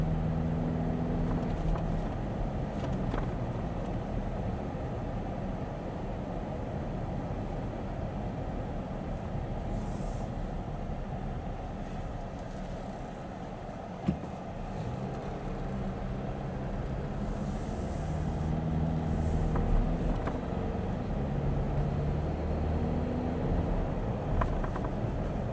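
Car exhaust with the pipe and resonator removed and a Banks cold air intake, a steady deep droning rumble while cruising with faint turbo whistle, continuous and moderately loud, with no talk.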